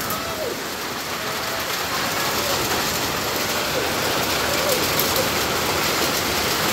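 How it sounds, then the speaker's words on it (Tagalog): Heavy rain pours in a dense, steady roar across the whole stretch, loud and continuous with no letup, during stormy weather near the sea. "Grabing ulan."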